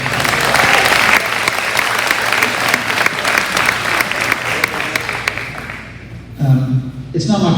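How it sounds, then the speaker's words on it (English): A school athletic awards crowd claps loudly and continuously, a thick wash of applause that tapers near the end as a few voices break through. "So I think we need a round of applause for Stephen."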